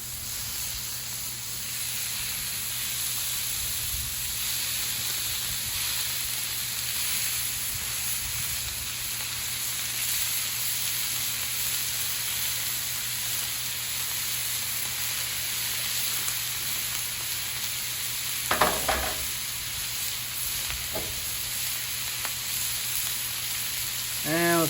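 A one-pound ribeye sizzles steadily on a 36-inch Blackstone Culinary Series griddle, a loud continuous hiss throughout with a few brief scraping clatters near the end.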